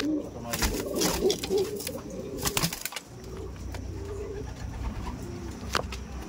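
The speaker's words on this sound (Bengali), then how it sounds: "এই দেখুন কালদম পায়রা আছে" Pigeons coo softly and repeatedly nearby, with occasional wing flutters and faint background murmur.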